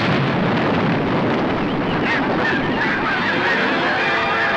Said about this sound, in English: The wire from the cannons is connected to the detonator.